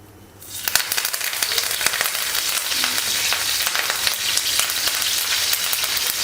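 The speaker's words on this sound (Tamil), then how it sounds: "எண்ணெய் நல்லா ஹீட் ஆனதுக்கப்புறம் அதில் வந்து நம்ம கருவேப்பிலை சேர்த்துக்கலாம்." Curry leaves dropped into well-heated oil in a frying pan for a crab pepper fry, bursting into a loud, steady crackling sizzle after a brief quiet start, close and continuous with no talk.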